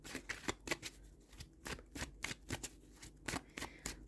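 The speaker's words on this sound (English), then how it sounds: "Okay, so I'm going to shuffle the cards on camera." Tarot cards being shuffled by hand, a quick series of crisp riffling flicks and soft slaps in an uneven rhythm, close and fairly quiet, with no talking.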